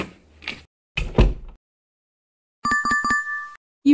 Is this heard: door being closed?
yes